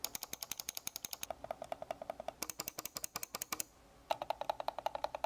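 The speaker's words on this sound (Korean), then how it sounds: "이거는 한 번만 클릭해봐도 크게 와닿는 부분이에요" A Logitech MX Master 3S mouse gives a rapid run of soft, muffled button clicks close up. The clicks come in steady, evenly spaced bursts with a brief pause partway through.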